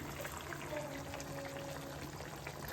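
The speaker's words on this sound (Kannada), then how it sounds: "ನೀರು ಹಾಕೊಳ್ಳಿ." Water pours steadily into a pan of Guntur-style chicken curry, a continuous close splashing and gurgling with no voices.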